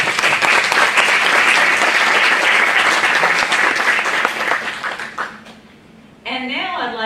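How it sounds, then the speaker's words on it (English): Audience at a health lectureship applauding in a sustained, dense round of clapping that fades out near the end, followed by a speaker's voice. "So if you could lead me in a round of applause."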